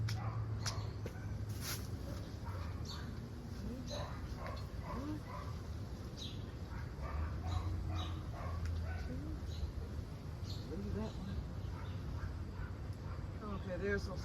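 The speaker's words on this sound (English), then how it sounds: "Okay, dogs, shut up." Several dogs bark and yip intermittently at moderate distance during outdoor garden harvesting of paprika peppers, with steady background noise and a person talking throughout.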